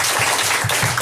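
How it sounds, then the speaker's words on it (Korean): Church congregation applauding at a Sunday service after a baptism announcement; dense, steady clapping fills the whole second at close range with no talk over it. "하나님께 영광의 박수 돌려드리겠습니다"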